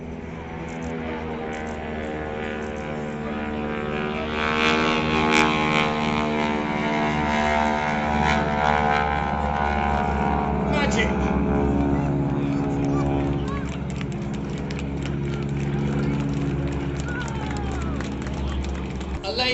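Display team aircraft roar past continuously at Blackpool Airshow, a loud sustained propeller engine drone with harmonic tones that swells mid-pass and then eases, with a commentator's voice talking over it throughout.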